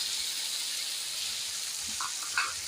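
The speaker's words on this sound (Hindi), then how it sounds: "टमाटर का पेस्ट डाल दूँगी" Tomato paste tipped into a pan of frying onions and potatoes for aloo bhujia: a steady, close hiss of sizzling oil with a couple of soft bubbling pops near the end.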